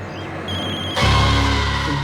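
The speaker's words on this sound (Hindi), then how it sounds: "तुम्हारा फोन बज रहा है" A phone rings loudly nearby, an electronic ringtone that starts soft and then jumps up sharply in volume, repeating its tones.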